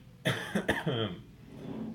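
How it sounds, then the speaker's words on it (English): A person coughs in a short burst of three or four harsh, close coughs, followed by a low rumbling throat sound as it trails off. "Apparently, one of my hours is going to be spent coughing."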